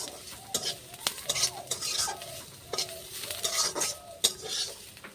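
Bitter gourd and onion fry in a pan with kasuri methi, a soft sizzle under repeated metallic clinks and scrapes of a utensil stirring against the pan.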